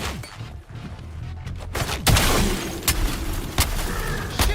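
Gunfire rings out in the video game Suicide Squad: Kill the Justice League, a rapid fusillade of loud shots and booms that begins about halfway through and keeps going in bursts, with some quieter game sounds before it.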